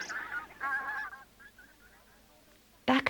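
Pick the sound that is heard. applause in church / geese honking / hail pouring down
geese honking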